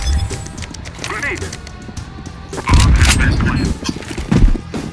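Grenade explosion and gunfire in Counter-Strike: Global Offensive, a loud crashing burst midway with further rapid impacts, while players talk throughout.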